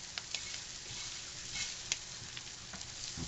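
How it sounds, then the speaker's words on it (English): Ground meat browns in a hot pan with a steady crackling sizzle, broken by occasional scraping stirs and small pops, faint and even throughout with no voices. "Stirring it around so you can see the meat is well browned."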